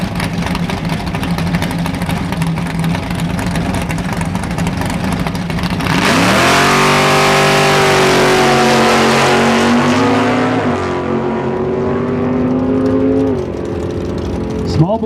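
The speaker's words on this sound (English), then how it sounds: "Small block Chevy in the right lane, big block Dodge on the left." A big-block 1970 Plymouth Duster and a small-block 1967 Camaro at a quarter-mile drag strip: loud, roaring engine noise that shifts into revving, with the pitch sweeping up and levelling off several times before it eases.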